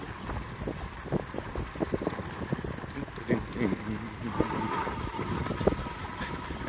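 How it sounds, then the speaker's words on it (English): Strong gusty wind buffets an outdoor microphone on a reasonably nice day with snow expected, rumbling steadily throughout with irregular thumps and a voice speaking over it. "I hope that wind ain't too bad for you."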